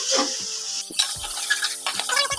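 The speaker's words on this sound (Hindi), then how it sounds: "मटर डालने के बाद जो है ना हमने इसको 3 से 4 मिनट तक अच्छी तरह भून लेना है।" Peas frying in a pan while cooking matar pulao, giving a steady close sizzle with soft stirring and a few clinks of a utensil against the pan, with no voices.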